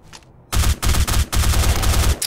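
Rapid bursts of gunfire in the Black Squad shooter game, loud and close, arriving as several back-to-back volleys with brief gaps, preceded by a quieter moment.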